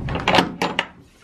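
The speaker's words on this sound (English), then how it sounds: "Let me get this door open. Oh, the top of the door open and get some light in here." A wooden barn door has its top half swung open on a frosty morning, giving a few close, hollow knocks and scrapes in quick succession before settling quiet.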